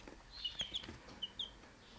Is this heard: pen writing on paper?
no